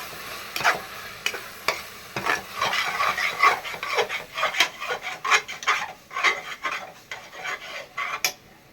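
Yogurt poured into mutton biryani masala and stirred in a pan, with steady scraping and wet mixing strokes in an irregular rhythm, close and fairly loud, with no talking.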